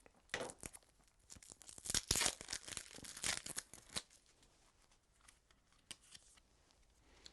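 A large deck of small Pan Am board game cards handled close up, with dense bursts of crisp shuffling, riffling and papery flicking that then thin out into sparse taps and soft card slides, no talk.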